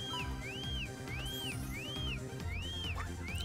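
A repeating whistle tone in a Pokemon Alpha Sapphire contest sweeps up and down in regular arcs, about one every half second, layered over steady game music.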